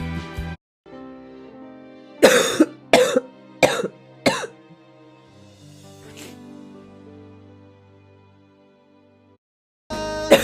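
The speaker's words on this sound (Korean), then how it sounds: "기침 나온다" A girl with a cold coughs in a quick run of four sharp, close coughs, then a softer cough after a quiet stretch and another burst at the very end, with low room tone between.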